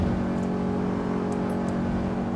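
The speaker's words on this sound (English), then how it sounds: "The lullaby of the engine sounds again." Car engine in the racing game Assetto Corsa Evo on the Nurburgring, a steady droning hum at constant pitch with a few faint high clicks, moderately quiet and uninterrupted.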